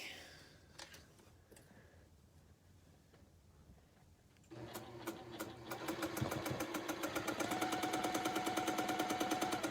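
A sewing machine stitches a seam on a quilt block, starting up after a quiet stretch into a fast, steady, close-up run of needle clatter that grows slightly louder.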